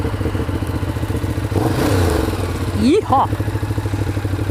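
A Ducati Diavel Carbon motorcycle starts up and idles with a throbbing, pulsing beat, then revs in a rising surge and settles back. A rider's voice shouts a cheer over the engine.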